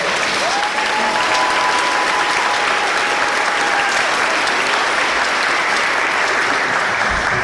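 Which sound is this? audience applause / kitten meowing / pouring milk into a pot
audience applause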